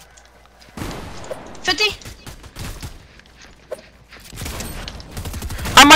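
Rapid DMR rifle fire in Fortnite sounds as bursts of sharp cracks mixed with game effects, heard under frequent excited talking from several players.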